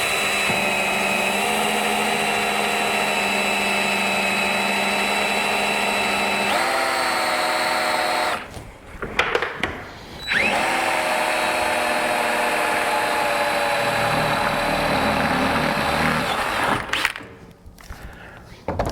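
A power drill bores into the metal roof of a Toyota Tundra 3G Double Cab, driving a small pilot bit through after cutting past foam, a loud steady whine with brief pauses and restarts up close.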